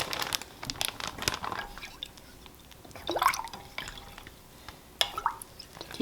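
Vinegar and dye drip and splash onto yarn, giving scattered wet drops and crinkly handling noises up close, with a sharper splash partway through.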